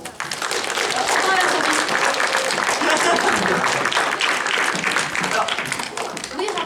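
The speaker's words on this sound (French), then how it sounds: "On a quelques applaudissements." Audience at a cosplay contest during the Ludinam festival breaks into applause, a dense, fairly loud spray of clapping hands that holds steady for several seconds while voices murmur underneath.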